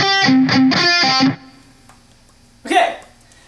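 Distorted electric guitar plays a song's pre-chorus slowly: a few sustained, buzzing notes for about a second, then quiet ringing and a short burst of another sound near the end.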